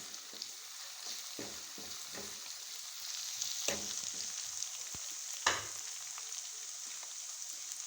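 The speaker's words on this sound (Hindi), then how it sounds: "अब हम इसमें अदरक लहसुन का पेस्ट डालेंगे।" Ginger garlic paste sizzles in a pan with browned onions, a faint, steady frying hiss broken by occasional spoon stirs and scrapes, with no talking.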